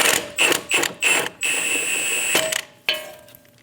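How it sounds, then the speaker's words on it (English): Socket wrench ratcheting on the upper ball joint nut of a Dodge Durango's front suspension, bursts of close metallic clicking followed by a longer steady ratchet run and a final short burst. "Using a 21mm socket, we are going to remove the upper ball joint nut."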